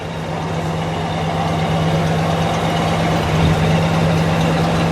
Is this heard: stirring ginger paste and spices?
no